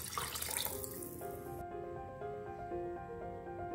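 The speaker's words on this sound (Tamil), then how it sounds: "அந்த கொள்ளு தண்ணியை ஒன்றா ஊற்றிக்கிறோம்." Strained horsegram water for kollu rasam is poured into a cooking pot, a steady splashing gush that settles into a lighter, ringing trickle as the pot fills.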